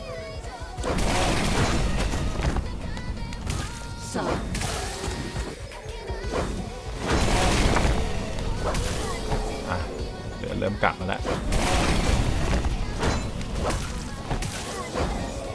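Explosions crash and boom repeatedly in the Devil Hunter zombie raid game, loud bursts layered over busy combat effects while a player talks excitedly throughout.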